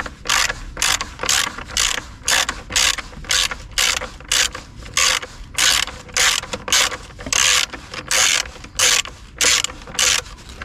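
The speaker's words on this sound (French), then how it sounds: "vous prenez l'embout de 13 et c'est pareil, vous le dévissez" A ratchet with a 13 mm socket unscrews the battery bracket screw on an Opel Astra H, giving loud, close, repeated bursts of rapid clicking with short pauses between strokes, no voices.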